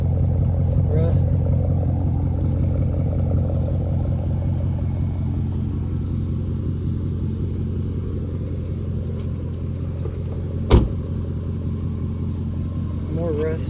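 Straight-piped 2002 Mercedes CLK430 engine idling with a steady, loud low rumble, a short sharp knock partway through, voices talking over it.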